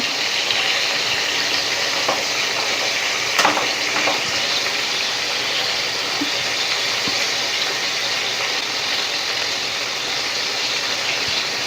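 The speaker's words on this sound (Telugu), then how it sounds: "ఇలా వేగాలండి కాసేపు" Stuffed eggplant frying in a pan for a milk masala curry, a loud, steady, close sizzle that hisses without a break throughout, with a few faint clicks of a utensil and no talking.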